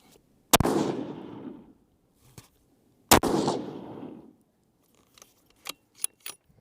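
Two loud rifle shots from a 6.5 PRC benchrest rifle firing factory ammunition, each a sharp crack with a long echoing tail, spaced about two and a half seconds apart, followed by a few faint clicks and handling sounds.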